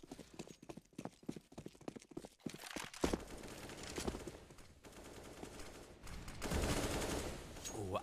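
An automatic rifle is sprayed in a CS:GO esports match, with a fast series of sharp shots up front, then dense, continuous in-game noise that fills the rest.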